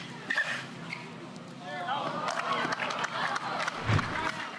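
A crowd at the Veolia Bristol Open tennis match cheers and applauds after a flashy tweener shot, a steady wash of clapping and shouts with indistinct voices mixed in.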